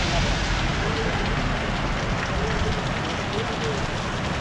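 Rain hitting during a motorcycle ride on a Kerala road, heard as a steady, loud, dense wash of noise that fills the whole stretch without a break.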